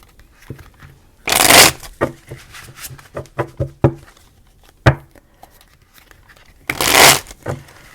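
A deck of reading cards shuffled close to the microphone in bursts: two loud riffling sweeps with a flurry of sharp taps and flicks between them, and no talking.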